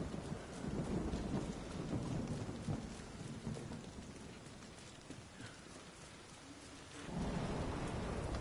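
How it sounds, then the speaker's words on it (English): Thunderstorm ambience from the video game Division 2: steady dense rain hiss with deep rolling thunder that swells at the start, fades through the middle and builds again near the end, with no voices. "Division 2 Thunder Lightning Ambiance or Rainstorm Ambiance"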